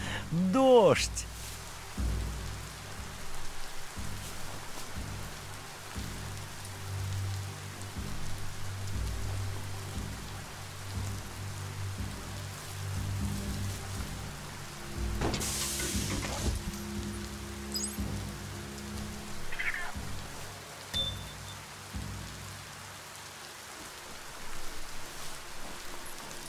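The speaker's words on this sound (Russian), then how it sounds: "Дождь!" Rain falls in the video game Biomutant, a steady hiss of drops across the whole stretch with low game music and ambience underneath and occasional brief effects.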